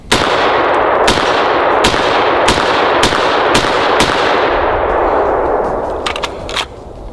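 A Desert Tech MDRx bullpup rifle fires out its magazine outdoors, eight or so loud cracks spaced about half a second apart, each ringing with echo, ending in a few lighter metallic clicks.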